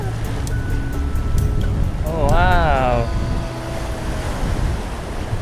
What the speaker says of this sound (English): So this is the place where you can see the waves crashing powerfully in the land.